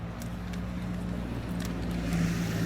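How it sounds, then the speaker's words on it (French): A small car's engine runs steadily with a low, even hum and rumble, close and continuous throughout, with no talking over it. "Hop, on monte dans la petite voiture."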